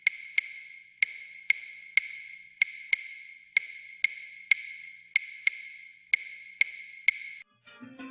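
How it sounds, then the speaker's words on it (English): Salsa clave rhythm tapped as sharp, bright wooden clicks, a repeating uneven pattern of quick and spaced strikes cycling several times, crisp and isolated over a quiet background. "This is the clave rhythm that you probably heard so much about,"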